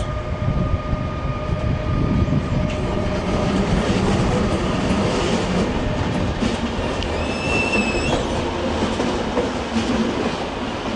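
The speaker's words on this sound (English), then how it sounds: "Oh, there's that RailJet train." A RailJet train, its locomotive at the rear, pulls away at München Hbf with a steady rolling rumble and rail clatter, a brief high tonal whine rising near the end, loud and continuous without speech.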